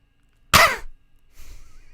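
A person imitates a dog retching: one harsh, loud, hacking burst, then a quieter, rougher breathy follow-up after a short pause.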